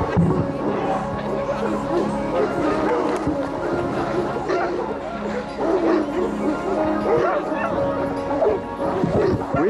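A dog yips and whimpers excitedly amid constant chatter from a crowd of people outdoors at a dog water-work competition.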